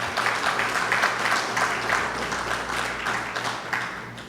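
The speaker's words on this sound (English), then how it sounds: "And I ask you to applaud yourselves for work well done." Sustained applause from a large audience at an award ceremony, steady, even clapping that keeps going throughout, with a low hum running beneath it.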